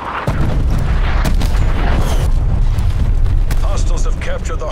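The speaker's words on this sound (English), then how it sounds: "Incoming artillery." Artillery strike explosions in Black Ops Cold War rumble in heavy, continuous booms with sharp cracks and blasts layered on top, loud and close, while voices speak over the chaos.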